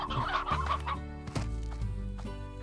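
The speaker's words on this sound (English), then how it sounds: "monsters are raiding the chicken coop" Chickens cluck in a busy, continuous run of short calls inside a chicken coop in the Slime Rancher video game, several birds overlapping at close range with steady loudness throughout.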